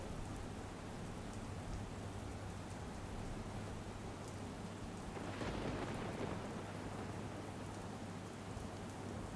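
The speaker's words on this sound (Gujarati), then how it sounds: "ભારે વરસાદના કારણે ઘોડાપૂર આવ્યું છે" Heavy monsoon rain pours steadily in Dhoraji, Rajkot, Gujarat, a dense unbroken hiss, while a rolling thunder rumble swells about midway and fades again.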